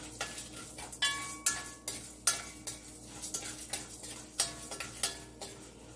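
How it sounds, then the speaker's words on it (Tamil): Peppercorns and dried chillies dry-roast in a pan without oil, giving a light, dry rattle of scraping and ticking as they are stirred, with repeated sharp utensil taps against the metal, close and steady throughout. "இதெல்லாத்தையும் வறுத்துக்கலாம் எண்ணெய் போடாம."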